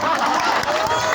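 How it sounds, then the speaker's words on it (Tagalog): Audience applause filling a live performance hall, a dense continuous wash of clapping from a crowd, loud and close throughout. "Palakpak!"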